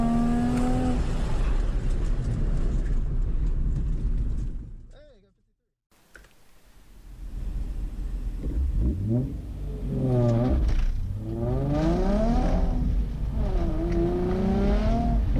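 A Nissan 350Z at an autocross run: the engine drones near the rev limiter, cuts out briefly during a shift into third, then climbs again in rising sweeps, with a voice talking over it.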